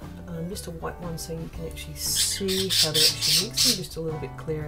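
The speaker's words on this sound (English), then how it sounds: "the birds are out today and you can hear them in the background" Wild birds squawk and chirp outdoors in the background on a bright day, bursts of calls coming and going behind a person talking steadily nearby.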